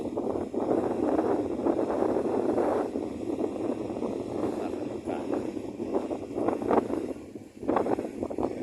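Strong wind gusts roar steadily across an open parking area, buffeting the microphone in a broad, continuous rush that swells and dips, with a voice speaking over it.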